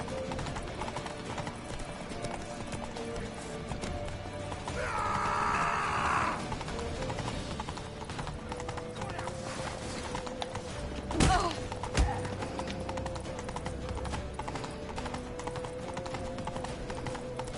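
Horse hooves clatter at a gallop in The Witcher 3, a rapid steady clip-clop under layered game ambience, with a couple of heavier thuds and a brief whinny-like burst partway through.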